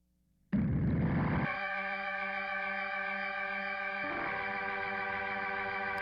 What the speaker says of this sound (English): And all that is a Hammond emulation by Arturia, I believe, with a lot of distortion on it through a fast Leslie